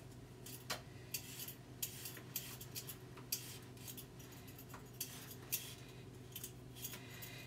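A peeler scrapes over a carrot in a home kitchen in quick repeated strokes, each scrape short and crisp at close range, fairly quiet overall.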